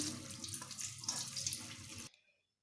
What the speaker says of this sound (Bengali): প্রথমেই আমি এই ঝিঙেগুলোকে বেশ ভালোভাবে ধুয়ে নিচ্ছি